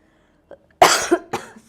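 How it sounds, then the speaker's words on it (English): Two or three short, dry coughs close to the microphone, separated by brief pauses in an otherwise quiet room. "I have a dry cough issue."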